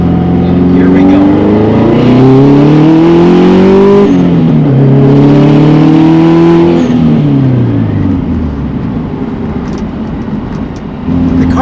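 A powerful collector car engine revs and accelerates hard through several rising gear pulls, loud and close, with the note falling between shifts before settling toward the end.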